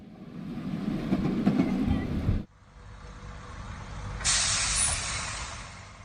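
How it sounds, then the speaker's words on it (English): A model railway local train, an older 1950s motor unit, departs with a close rumbling clatter that cuts off abruptly, followed by a quieter pause and then a sharp hiss of air. "From Drambo Works, a local train departs."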